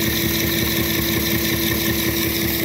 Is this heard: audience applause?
no